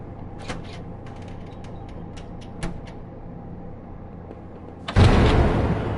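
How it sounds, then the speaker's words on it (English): A door locking in a video game, with faint creaks and small mechanical clicks followed by a loud, heavy lock clunk near the end. "That was a loud locking noise."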